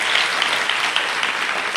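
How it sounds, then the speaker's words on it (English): A lecture audience breaks into a big round of applause for a student at a talk on Krishna, a dense, even burst of clapping throughout, loud and close, with no talking over it. "Give him a big round of applause."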